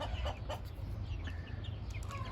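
A Gurk mother hen clucks steadily among a few small chicks, whose thin high peeps scatter over the low murmur of her clucking, close and continuous with no talk.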